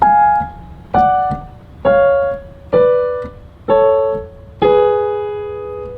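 Piano chords from a La La Land theme, six struck chords in slow, even succession, each left to ring and decay, close and loud with no talk.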